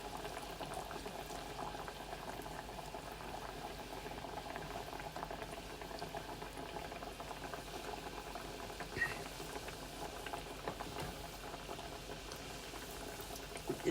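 Cheese spinach ravioli frying in hot oil, a steady bubbling, boiling-like patter throughout at low to moderate level with no talk.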